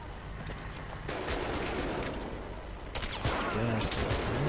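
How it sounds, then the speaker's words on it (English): Gunfire in Battlefield 3 co-op play, a dense busy firefight with bursts and shots layered under ongoing game noise, getting louder toward the end. "Who else is shooting me right now?"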